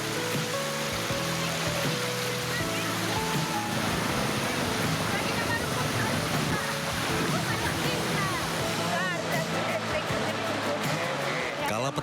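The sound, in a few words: flash flood water flowing over a road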